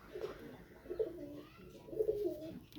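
Pigeons coo softly at close range in a few low, throaty bursts spread over a couple of seconds, with no voices alongside.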